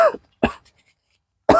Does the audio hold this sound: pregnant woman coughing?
yes